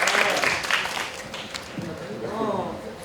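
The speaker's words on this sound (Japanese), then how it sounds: "공연까지 올린 정화에 친구들에게 박수 한 번만 주시면 감사하겠습니다" Audience applause at the closing ceremony of a Korea-Japan theater festival, loud clapping in the first moments that thins out as a voice begins talking.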